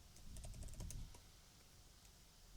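Close, quiet typing on a computer keyboard while entering code, with a quick burst of key clicks in the first second followed by softer scattered taps over a low background hiss.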